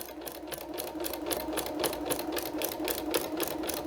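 A sewing machine fitted with a walking foot stitches through a pinned place mat sandwich, running steadily with a quick, even, rhythmic needle clatter at a low, close level.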